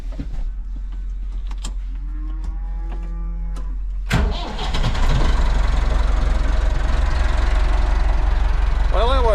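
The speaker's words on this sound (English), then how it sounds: "wait around forever for that little tractor to crank." A small old tractor engine cranks and catches after a few seconds of quiet, then runs steadily with a rough, rattling idle close by.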